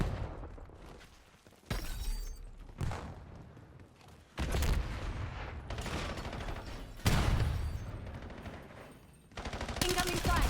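Loud incoming gunfire in the Black Ops 7 beta on a small multiplayer map: rapid automatic bursts in several long stretches separated by short gaps, with glass-like shattering mixed in.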